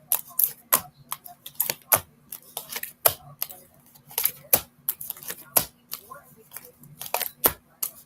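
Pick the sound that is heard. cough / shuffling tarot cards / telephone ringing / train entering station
shuffling tarot cards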